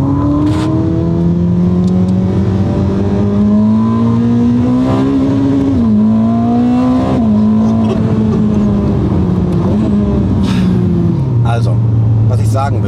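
Ferrari sports car engine revving and accelerating close by, a loud rising and falling growl through shifts over about thirteen seconds, with voices talking over it.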